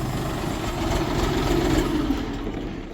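A three-cylinder beltless tractor engine idles with a steady low chugging rumble, close and continuous, with no voices over it.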